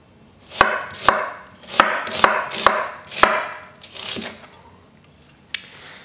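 A knife slicing an onion on a cutting board, with about seven crisp evenly spaced chops followed by softer cuts that trail off, close and clear with no talking.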